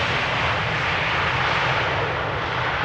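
An airplane at Schiphol Airport produces a dense, steady roar of engine noise that stays loud and even throughout, with no voices heard.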